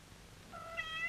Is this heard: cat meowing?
yes